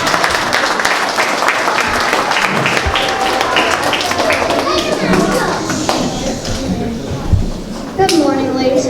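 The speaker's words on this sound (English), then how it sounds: "One final round of applause" Audience applause after a school play, a close dense patter of many hands clapping, mixed with voices and crowd chatter that carry on as the clapping eases.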